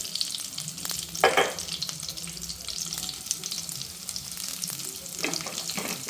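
Garlic and crushed chilli sizzling in a pan for a drumstick-leaf stir-fry, a steady close hiss with a couple of louder bursts as ingredients go in, no talking.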